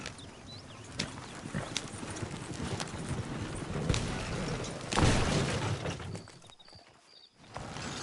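Horse hooves clip-clop steadily in a Red Dead Redemption 2 ride, a rhythmic close trot of thudding beats with wagon-like rattles and a brief soft whinny, faint voices occasionally behind.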